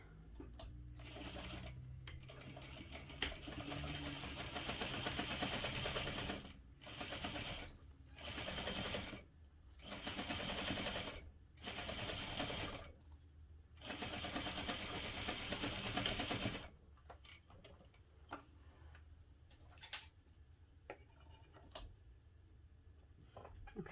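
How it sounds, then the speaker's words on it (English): A sewing machine stitches a backpack seam in a series of steady bursts separated by short pauses, fairly close and alone, then fades into faint clicks and handling sounds. "And then we're going to sew that together using a 1/2 inch seam allowance."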